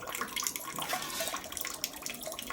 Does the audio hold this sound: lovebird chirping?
no